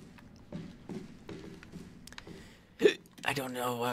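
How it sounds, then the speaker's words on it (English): One sudden hiccup bursts out mid-clip over a running stream of speech-like sound and background noise while playing Resident Evil 7. "I got hiccups, and I'm getting pissed because I'm freaking out of hiccups"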